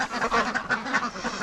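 Ducks quack repeatedly beside a mud puddle in spring thaw, a lively cluster of close, overlapping quacks with no talk.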